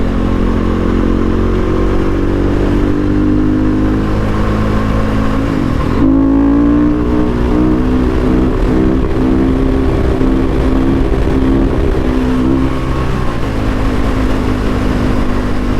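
A 2008 Husqvarna SMR 510 supermoto motorcycle is ridden, its loud, close engine droning steadily, then dropping and climbing again through gear changes, with no voices.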